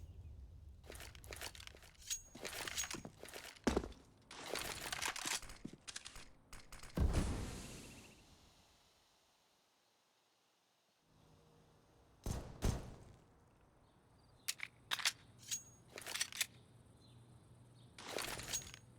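Rapid bursts of Glock pistol fire in a CS:GO match on Inferno, Heroic against Natus Vincere, spammed in quick clusters, loud and close, with a quiet lull midway before more crisp shots resume.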